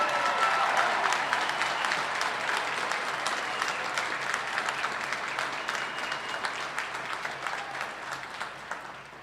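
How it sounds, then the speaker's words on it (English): Sustained applause from a commencement crowd honoring graduating classes at a winter ceremony in Albany, NY, steady and full at first and gradually thinning toward the end. "please, a round of applause for the classes of 2020 and 2021"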